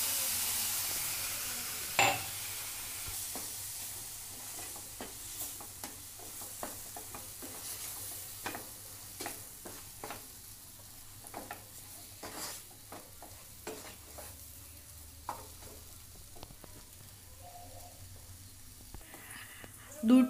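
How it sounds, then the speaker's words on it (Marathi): Semolina sheera for prasad, with ripe banana, being stirred in a pan as milk is added; soft steady scraping and stirring strokes with a faint sizzle run throughout, and a sharper clatter comes near the start and again at the end. "आता आपण यात दूध टाकून घेणार आहोत।"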